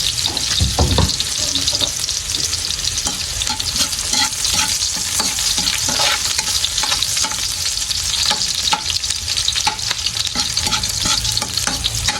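Sponge gourd (patola) goes into a hot pan and is stirred, giving a loud, steady sizzle with repeated scraping stirs throughout and no talking.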